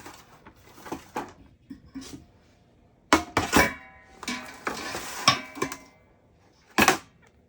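A big pan handled in a home kitchen while making sriracha, with sharp metallic clanks and scrapes in separate bursts and quiet gaps between them, no speech.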